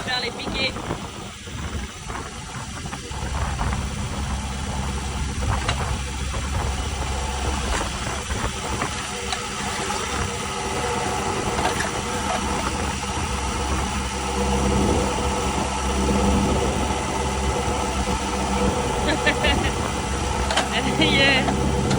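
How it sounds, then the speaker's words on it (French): A tractor on a farm in Australia runs with a steady mid-pitched engine rumble throughout, with occasional clanks, while people talk over it. "Emmener le tracteur dans la ferme pour faire les piquets."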